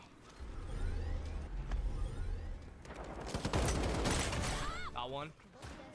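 Rapid gunfire in the Strinova shooter game bursts out as a dense, fast rattle of shots in the middle of the clip, followed by whooshing effects and a falling synthetic tone, over a low game rumble.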